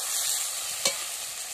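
Soaked fish pieces fry in a pan, a continuous bright hiss of sizzling oil with one short sharper spatter midway.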